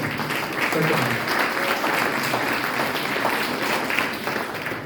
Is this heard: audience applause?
yes